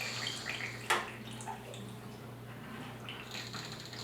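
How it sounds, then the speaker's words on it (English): Water drains out of an old bathroom sink drain during plumbing work, a steady low hiss and trickle with one sharp splash or clunk, fairly faint and without speech. "Now all the water is draining out of there."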